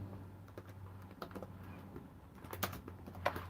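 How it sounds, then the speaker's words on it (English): Someone with long nails types on a computer keyboard, producing quiet, close, irregular clicks and taps in uneven bursts over a low steady hum. "Do you see how hard it is to type with these fucking nails?"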